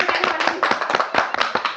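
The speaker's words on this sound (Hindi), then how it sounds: "यहाँ पर जितने भी लोग हैं पूनम की इस बात पर एक बार जोरदार तालियां बजा दें" Enthusiastic applause from an audience of women staff at a gathering in Dehradun, dense rapid clapping from many hands, loud and close, continuing steadily throughout without speech.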